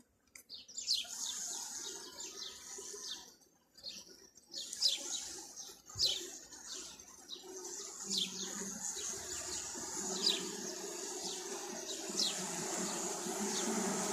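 Agitated honey bees buzz at an opened hive in an apiary during varroa mite treatment: a steady, moderately loud drone that swells and thickens over time, with sharp chirping notes scattered on top.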